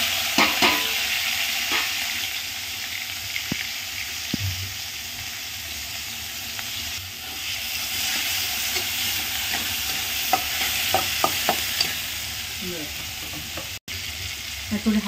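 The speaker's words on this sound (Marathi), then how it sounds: "टमाटा, कांदा आणि 2-3 लसणाच्या पाकळ्या आणि मिरच्या 2-4 टाकणार आहे।" Tomato, onion, garlic cloves and green chillies fry in oil in a kadhai (wok), with a continuous close sizzle and hiss. Clicks of a stirring spoon scrape and tap against the pan, growing busier toward the end.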